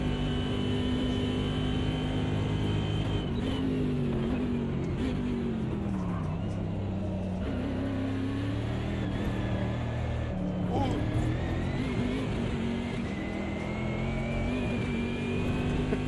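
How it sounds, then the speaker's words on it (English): A 2005 GT racing car engine in Automobilista 2 roars continuously for the whole stretch, its pitch rising and dipping as it revs and shifts gears. The sound is loud and close. "The car is so loud."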